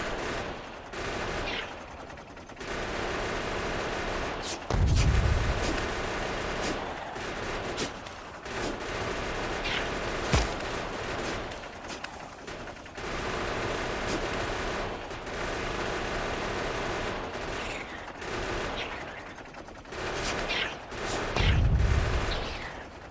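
Sustained bursts of automatic weapon fire in the factory-building game Factorio, long rattling volleys broken by short pauses and a couple of heavier low thuds across the stretch.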